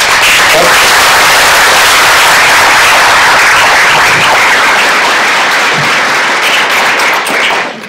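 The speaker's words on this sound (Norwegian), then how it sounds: "Og så en applaus" Audience applause at a Norwegian conference session, a dense, loud, steady wash of clapping lasting throughout and tapering slightly at the end.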